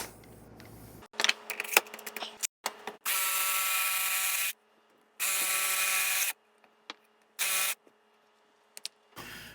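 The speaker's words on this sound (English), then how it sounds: "with an 1¼ inch Forstner bit, I'll be drilling all the way through at those punch marks" A drill press with a 1¼ inch Forstner bit bores through wood in short, loud bursts of whirring motor and cutting, separated by quiet pauses and small handling clicks.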